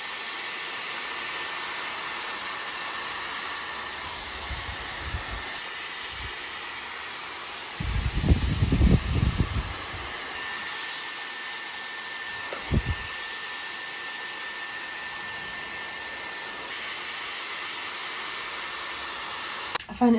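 A Dyson Airwrap styler blows a steady, loud hiss of air over fine, thin hair, running continuously throughout. Brief low rustles and bumps come through under the rushing airflow.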